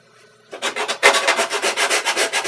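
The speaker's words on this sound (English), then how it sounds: "that's the Dremel tool" A Dremel rotary tool grinds and smooths the jagged edges of a wing saddle, a loud close rasping burst that starts abruptly and then pulses in quick rhythmic strokes with no talking.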